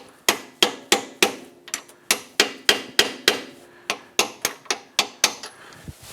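A new shift shaft seal is hammered onto a motorcycle's shift shaft, about twenty sharp, close metallic taps in a steady rhythm with a short pause midway.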